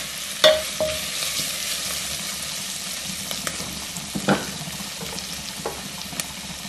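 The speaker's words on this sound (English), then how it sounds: "I'm gonna add this ginger and this garlic. And I'm gonna cook this, like fry this together," Ginger and garlic fry in a pan for a beef korma, giving a steady sizzle with a sharp utensil clink near the start and a few scraping stirs. No one speaks.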